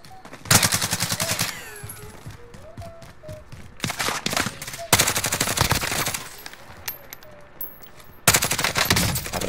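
Automatic gunfire in Call of Duty Cold War Warzone, with loud, rapid machine-gun bursts in three long volleys separated by quieter gaps that carry softer in-game sounds.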